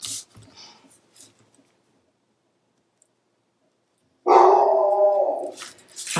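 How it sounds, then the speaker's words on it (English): Dog barking in the background, a loud, sustained bark or growl of about two seconds after near silence, with a few faint clicks earlier. "don't know what she's barking at."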